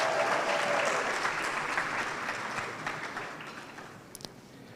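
An audience at a Pharmacy White Ceremony claps loudly and evenly, then the applause gradually thins and fades, with a few last scattered claps.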